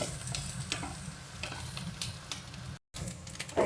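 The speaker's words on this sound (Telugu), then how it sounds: "అయితే ఉల్లిపాయ వేగుతుంది కదా" Onions frying in a pan for Chinese fried rice sizzle while a spatula stirs and scrapes in repeated strokes, broken by a brief silent gap near the end.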